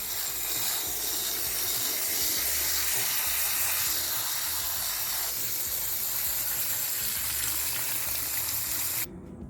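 Water sprays through a K&N air filter to rinse it from the inside out, a loud continuous hissing gush that holds steady for several seconds before dropping off near the end.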